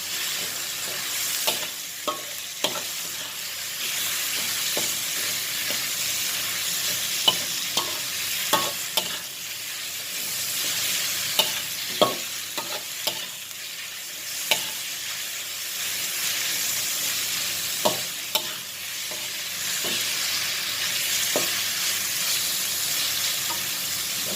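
Minced pork stir-fried in a wok for pad kra pao: continuous close sizzling with regular scraping and clanking of a spatula against the pan, no voices.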